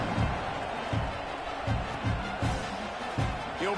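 A football stadium crowd murmurs and roars broadly at kickoff, with rhythmic thumps or chants pulsing about every half second and a play-by-play voice talking over it.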